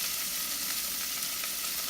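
Chopped onion and celery sizzle and fry in a hot pan for shrimp perlo, a steady, close crackling hiss with faint stirring and no voices.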